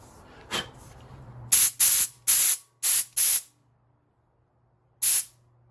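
Short bursts of air hiss from a tyre inflator on a restored air compressor, five firm blasts in quick succession followed by one more after a pause, with a low hum underneath.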